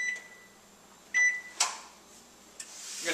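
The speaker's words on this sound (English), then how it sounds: "I'm going to test the microwave" A kitchen microwave oven is started during a home inspection, with short keypad beeps and a couple of dull clunks from the door and controls against a quiet background.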